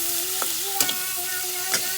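Chili stir-fries in hot oil for a Chinese-style egg-coated tofu recipe: a continuous close sizzle with a faint steady hum underneath and a few short spatula scrapes spaced out across two seconds, no talking.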